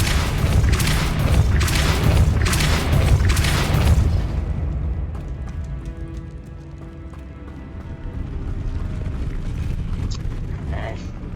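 A Depulso spell cast in the Hogwarts Legacy video game lands as a loud, dense burst of booming, thumping impacts for about four seconds, then gives way to quieter game ambience with faint chimes and a low hum.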